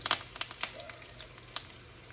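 Curry leaves and turmeric fry in hot oil in a pan for a South Indian temple-style tamarind rice tempering, a soft continuous sizzle broken by scattered sharp pops and crackles.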